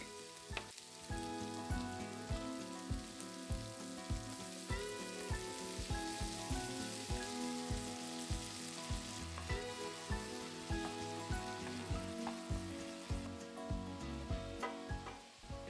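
Garlic, onion and bell pepper sauté in hot oil, giving a steady close sizzle with regular scraping stirs throughout and no voices.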